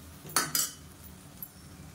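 A metal utensil scrapes and clinks against a cooking pan while tomatoes are sautéed for a South Indian lunch-box dish, with two quick close strokes and a fainter tap afterward.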